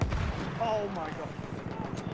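A sniper rifle fires once in the Battlefield 1 beta, a loud sharp crack right at the start, followed by a busy wash of game noise with voice-like tones over it.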